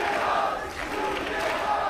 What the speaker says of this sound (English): A lot of people here make a lot of noise. Especially when they're cheering for their favorite mythical creature.